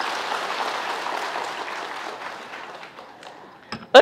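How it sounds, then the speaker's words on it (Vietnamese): A crowd applauds at a Buddhist dharma talk, a broad even clapping that slowly fades, ending with a few sharp close knocks or taps. "một tràng pháo tay giùm tôi."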